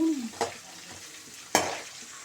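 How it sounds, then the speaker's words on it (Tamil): Sliced onions and green chillies frying in hot oil, a soft steady sizzle broken by two sharp stirring scrapes, close and without talk. "இப்போ இதில் வெங்காயம் பச்சை மிளகா ரெண்டும் ஆட் பண்ணியிருக்கோம் இது கொஞ்சம் வணங்கட்டும்"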